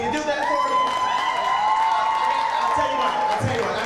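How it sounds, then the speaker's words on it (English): An audience at a Miss Kentucky Newcomer pageant applauds and cheers for the contestants, steady clapping with whoops and a long shrill whistle rising above it, sustained throughout. "give them a thunderous round of applause"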